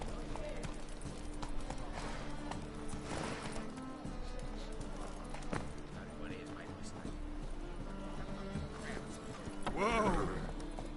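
A horse gallops in The Witcher 3: Wild Hunt, steady rhythmic hoofbeats under continuous game music and ambience, with a voice speaking over it and a brief louder flourish near the end.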